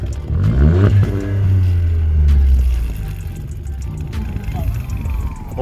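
A VW Up! GTI fitted with a Milltek exhaust revs hard close by, the engine note climbing and falling through two strong rises before settling into a rough, clattery idle burble.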